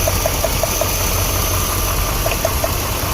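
A 2007 Dodge Ram 5.7L V8 with a misfire idles close by, a steady engine drone marked by faint, evenly spaced ticks that come in two short runs.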